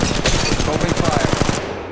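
Rapid automatic gunfire in the video game Apex Legends Mobile, a loud, close, continuous burst of evenly spaced shots that cuts off abruptly near the end, with speech mixed in.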